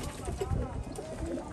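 Pigeons wandering below give low, muffled coos under a steady hum of background noise, brief and faint.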